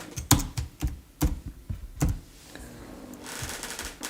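Fingers typing a stock ticker on a computer keyboard, a handful of sharp, irregular key clicks close up in a quiet room, ending with a faint hiss of background noise.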